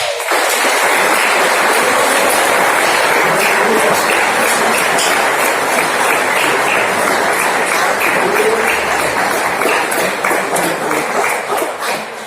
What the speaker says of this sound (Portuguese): Vamos louvar o nome do Senhor Jesus com uma aplauso.